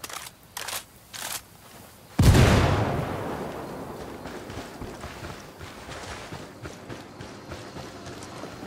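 A frag grenade explodes in a video game with a sudden, loud, booming blast after a few short thumps. The blast then decays into a long, rumbling, crackling tail that fades gradually.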